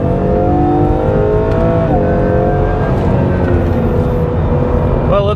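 Honda NSX driven hard around a race track on Bridgestone Potenza tires, loud continuous engine roar with rising and falling revs through gear changes, close and sustained throughout.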